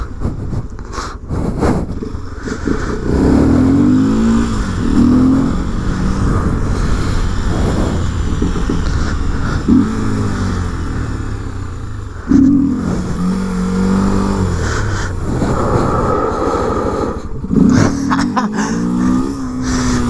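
A Honda XRE 300 motorcycle revs hard while being ridden in a wheelie. The engine pitch rises and falls in repeated loud surges over about twenty seconds, close to the listener.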